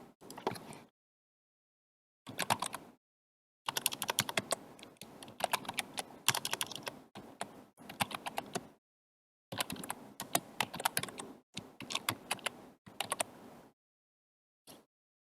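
Computer keyboard keys are typed in bursts of quick, close clicking, several runs of several seconds each, broken by short silent pauses, with no voices.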